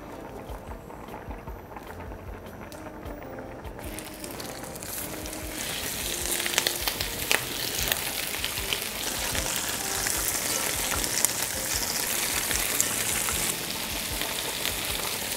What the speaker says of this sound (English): now we're gonna be pan frying our dumplings.